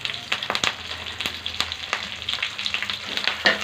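Curry leaves sizzle and crackle in hot oil for a crispy avalakki tea-time snack, a steady close frying hiss broken by sharp irregular pops and spits throughout.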